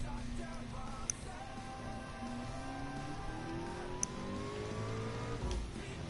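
A BMW M6 race car in a racing video game runs at speed, its engine note climbing steadily through revs with a few sharp clicks of gear changes, faint and continuous with no talk.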